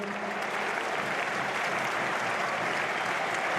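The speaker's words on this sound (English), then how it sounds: "But a good round of applause." Steady applause from a large football stadium crowd during a substitution at Watford v Oxford United, sustained and even throughout, with no pauses.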